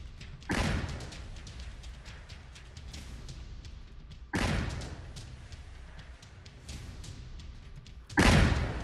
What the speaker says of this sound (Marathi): अतिशय मोठा स्फोट या ठिकाणी झालेला आहे